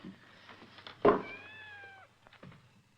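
A cat meows in a 1940s spy thriller scene, one clear drawn-out meow in the middle, with faint indoor background sound and brief soft noises around it.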